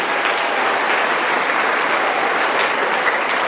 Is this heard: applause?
yes